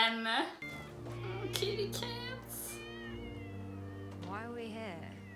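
A cat meows repeatedly in a TV episode, its rising and falling cries carried over background music and brief speech, moderately close and fairly quiet overall.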